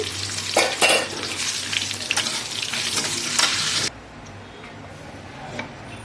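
Curry leaves and mustard seeds crackle and sizzle loudly in hot oil as tempering for sambar dal, with sharp spattering pops, then the sound drops abruptly to a faint simmer with occasional ticks.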